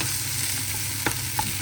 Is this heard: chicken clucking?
no